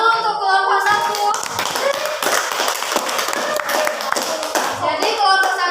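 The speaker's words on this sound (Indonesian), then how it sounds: "Tepuk tangan dulu untuk kelompok 1." Classroom applause for the first student group, a room of children clapping steadily and loudly throughout, with some chatter and voices mixed into the clapping.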